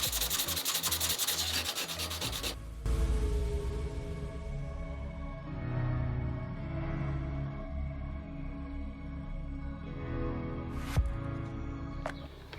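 Steady hand sanding of car paint on a 2012 Audi A7 using 320 grit sandpaper gives a continuous close, rough scratching rub with small shifts in rhythm and a couple of short taps.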